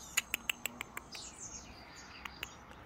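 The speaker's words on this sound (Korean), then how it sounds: "어쩌면 새들이 이렇게 많이 몰려오냐?" Many birds gathering and chirping: a quick run of sharp, bright chirps in a row, then a softer warbling call and two more chirps, fairly close in a quiet outdoor setting.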